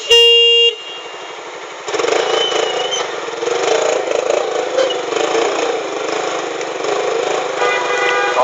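A 750cc motorcycle accelerates hard through traffic between lanes, its engine roaring steadily and close after a short opening blast of a car horn, with more horns honking briefly amid the engine noise.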